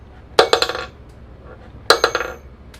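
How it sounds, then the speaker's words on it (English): A solid ring is tossed inside a box, making two separate metallic clattering bursts, each a quick rattle of bounces that rings out and settles, up close in a quiet room. "I'm going to take the ring and just toss it inside the box."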